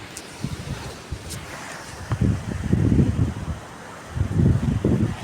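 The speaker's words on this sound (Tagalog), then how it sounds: "pakinig nyo yung lakas ng bugso ng hangin" Strong typhoon gusts buffet the microphone in rough, low rumbling bursts that swell and fade, with rustling in the background, above rooftops during Typhoon Nika in the Philippines.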